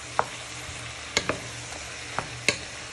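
Spring onions being stirred in a frying pan while preparing Chinese chicken lettuce rolls, with a soft steady sizzle broken by four or five sharp scrapes and clicks of the utensil against the pan, close and fairly quiet, no talking.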